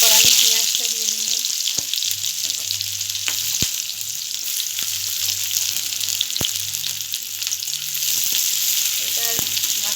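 Onion frying in a pan in a home kitchen, cooked for an aloo potol chingri dish with potato and pointed gourd: a steady loud sizzle throughout with occasional sharp clicks of stirring, no talk.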